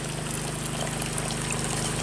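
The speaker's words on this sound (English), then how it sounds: "that's pretty green mucky water coming out of there" Green mucky water flowing out of an azolla pit at tilapia pits, a constant rushing pour with a steady mechanical hum, like a pump, running beneath it.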